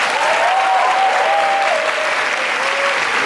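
An audience at the Cannes Film Festival 2023 applauding director Michel Gondry, dense sustained clapping from a large crowd filling the hall, with a faint tonal hum running beneath.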